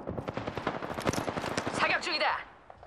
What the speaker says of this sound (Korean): 사격 중이다.